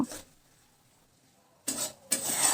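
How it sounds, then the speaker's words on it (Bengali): Spice paste with a little water being stirred in a pan over low gas heat for Bengali katla kalia, two short scraping rasps of a spatula against the pan after a quiet pause. "এখন আমি দিয়ে দিচ্ছি অল্প একটু জল গ্যাসের আঁচটা একদম লোতে রেখে মশলাটা আমরা কষিয়ে নেব"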